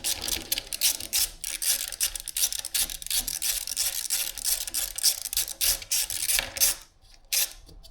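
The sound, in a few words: 10 mm socket wrench on Rock Shox Reba fork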